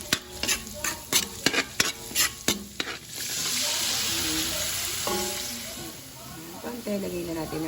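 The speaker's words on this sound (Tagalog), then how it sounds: "Lutuin muna natin yung ating repolyo with bawang sibuyas." Cabbage sautéed with garlic and onion in a pan, rhythmic stirring scrapes giving way to a steady loud sizzle, with a person talking over it at times.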